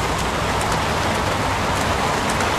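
Heavy rain pours steadily in the Heavy Rain game, a loud, dense, unbroken hiss of water with faint scattered drips and no voices.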